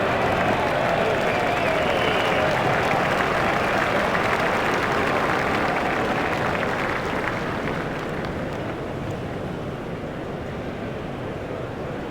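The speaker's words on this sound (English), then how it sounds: "The crowd really enjoyed that shot." A stadium crowd in the cricket video game Cricket 07, during England vs Australia, applauds and cheers after a shot, a dense, steady roar of clapping that holds loud throughout and eases slightly toward the end, with no talk over it.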